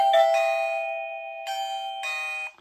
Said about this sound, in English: so right now I've got 2 doorbells programmed to 2 chimes